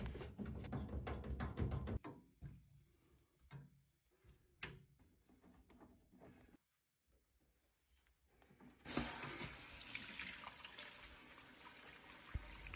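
Water drains from a Worcester Bosch combi boiler that is over-pressurising. A rushing trickle fades into near-quiet with a few faint ticks, then a loud, close gush of flowing water returns.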